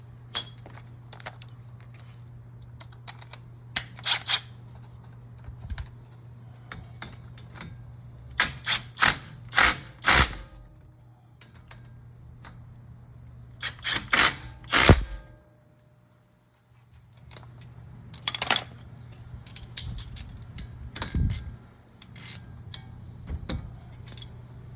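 Brake caliper bolts being tightened on a 2017 Toyota Camry 2.5L during a rotor replacement, with scattered sharp metallic clanks and ticks of tools in irregular clusters, close by over a steady low hum, with a quieter pause midway.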